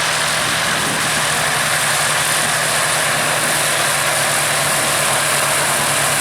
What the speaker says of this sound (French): Écoutez la douceur de ce moteur au ralenti, pour 2 fois 600 chevaux